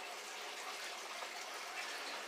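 Two-stroke gas mix pours steadily into a small quart container, a continuous close-up liquid gush with no voices.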